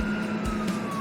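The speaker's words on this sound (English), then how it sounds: "let the ambulance pass" Ambulance siren wailing steadily at close range over a low traffic rumble, continuous and fairly loud throughout.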